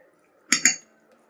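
A tablespoon of sugar tipped into a cooking pan of vegetables for fried rice, giving two quick close clinks of a metal spoon against the pan, alone in a quiet kitchen.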